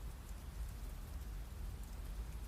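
Steady rain falls in a constant, even hiss and patter, with no voices and no pauses.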